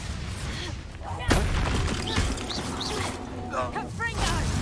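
An Incendio fire spell cast in Hogwarts Legacy, a sudden loud whooshing burst with crackling and clattering effects that carries on under brief exclamations and game sounds.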